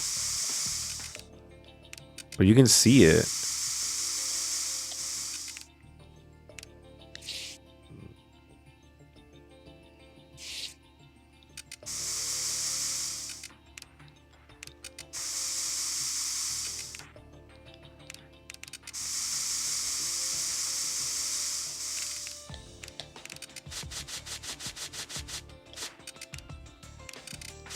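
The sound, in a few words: spray being used in the video game Trauma Team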